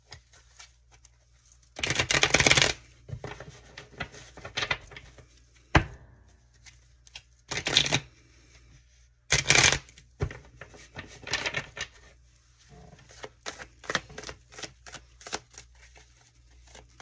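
Tarot cards being shuffled by hand, several loud riffling bursts and softer taps spread across the recording, close and with no talking.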